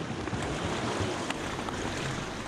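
Whitewater rafting on river rapids at Lubuk Batu Jukut in Renah Kemiri, a steady broadband rush of churning water with wind buffeting the microphone, fairly soft and unbroken, no voices.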